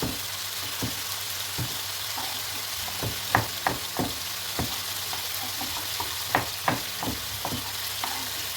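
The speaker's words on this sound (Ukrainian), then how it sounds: "Поки смажиться м'ясо" Meat fries in a pan with a steady, loud sizzle, broken by repeated knocks and scrapes of stirring at an irregular rhythm, close up with no talking.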